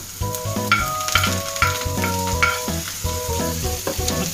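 Masala omelette frying in a pan as chopped coriander goes in, loud sizzling with clattering utensil knocks and stirring scrapes, carrying tonal ringing over the crackle.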